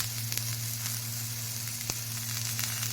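Food sautés in a small amount of wood-pressed oil in a home kitchen pan: an even, close sizzle that holds steady throughout, with a few faint clicks and no talking.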